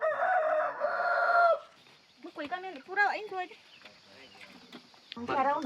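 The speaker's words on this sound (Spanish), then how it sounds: "Son demasiados niños para pocas gallinas." Chickens on a farm in an Amazon indigenous community: a rooster crows loudly at the start, followed by hens clucking and a short crow near the end, heard under occasional talk.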